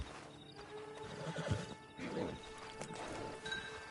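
Hooves clip-clop close by while a horse whinnies and snorts in the video game Red Dead Redemption 2 Online, with a couple of soft knocks mixed in; no one speaks.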